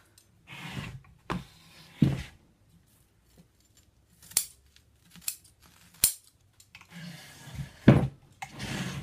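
Scissors trim upholstery fabric on a Parsons chair: a few separate crisp snips and cuts with quiet pauses between them, close by and without talk.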